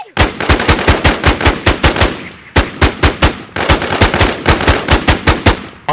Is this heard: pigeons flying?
no